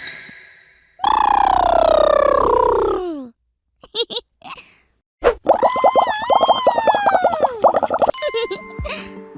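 A person imitates a woolly mammoth, giving long trumpeting calls that slide down in pitch, with short grunts and wavering bellows between them.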